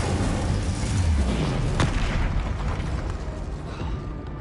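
Incendio fire spell cast in the Hogwarts Legacy video game: a loud, sustained rumbling whoosh of fire with a sharp crackling burst near the middle, fading slowly afterward, with no talking over it.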